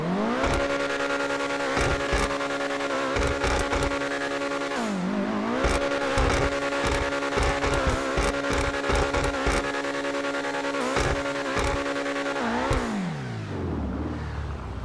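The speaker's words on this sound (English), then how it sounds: "Let's go ahead and hear this exhaust sound" Engine and exhaust of the Obey 10F, a GTA car modeled on the Audi R8, driven hard with revving acceleration, gear shifts and pitch dips, a loud continuous roar heard close and alone.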